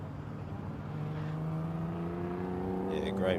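Formula SAE race car lapping a circuit at a 2023 Formula SAE Australasia event, its engine note droning steadily nearby with pitch slowly rising and falling and a brief sharper burst near the end.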